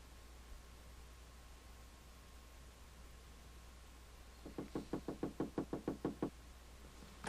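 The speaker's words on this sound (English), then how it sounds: "there's constantly a knock, and I'm just waiting here when it knocks" Knocking on a door in the Gabriel Knight video game: a quiet pause, then a steady run of about ten sharp raps in even rhythm, close and clear over faint background hiss.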